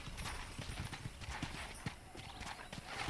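Horse hooves in the Western video game Red Dead Redemption during horse wrangling, a steady, fairly close clip-clop of galloping steps over continuous game ambience.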